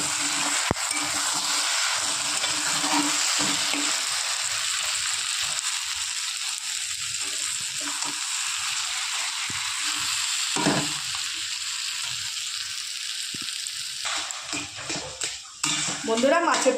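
Eggplant slowly frying over low heat for a fish-oil chorchori curry, giving a steady soft sizzle that runs throughout beneath intermittent talking.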